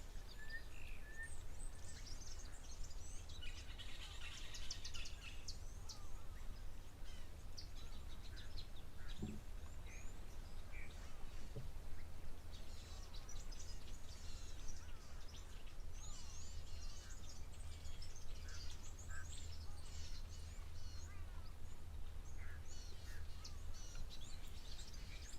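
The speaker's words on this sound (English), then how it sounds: "I can hear lots of weavers in the background." Weaver birds chatter continuously at a waterhole, a dense, busy background of small calls and chirps in the upper range that runs throughout, fairly faint and steady with no talking.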